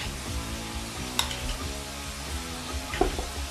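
Chicken coating mix tossed with vegetable oil using a spoon, a steady grainy stirring and scraping texture with a couple of sharper clinks of the spoon against the bowl, close and moderately loud.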